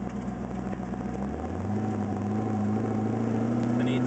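Twin-turbo LS1 V8 swapped into a Mazda RX-7 FD, idling smoothly: a steady, even engine hum with a slight rise in pitch about a third of the way in, heard close and alone.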